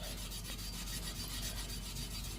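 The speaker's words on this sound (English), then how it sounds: "So I'm just using a little bit of steel wool." Steel wool rubbed on a rusty HSS woodturning tool, a continuous close scratchy rasping with a fast back-and-forth rhythm, steady and moderately quiet, with no talking.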